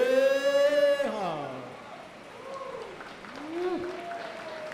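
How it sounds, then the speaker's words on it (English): A crowd at an outdoor dance ground event applauds after a dance performance: a sung voice rings out briefly, then moderate, somewhat distant clapping continues, swelling slightly near the end. "Let's give them another round of applause."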